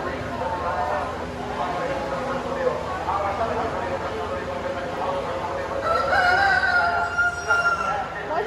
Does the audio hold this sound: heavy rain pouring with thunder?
no